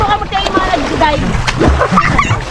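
Splashes of people diving into water during a family outing at a swimming spot in Agdangan, Quezon, irregular watery bursts close by, with people talking throughout.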